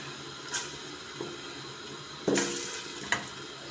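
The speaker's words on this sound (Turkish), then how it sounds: "Soğanımı kavuruyorum." Onions frying in a pot for spinach soup, a soft continuous sizzle with a few sharp stirring scrapes and clinks against the pot, close and moderately quiet.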